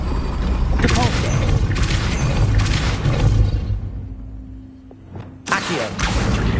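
A Depulso force spell fires in Hogwarts Legacy: several loud bursting whooshes with rumbling impacts in quick succession, a short near-silent lull, then another sharp blast and trailing rumble.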